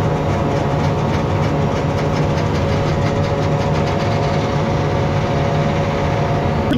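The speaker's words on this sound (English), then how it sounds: "You heard that aching sound when the planter was folding up there?" A planter folding up on a farm before heading to the field: loud, continuous mechanical rumble with a steady rattling drone and repeated faint clicks running throughout, close by and alone without voices.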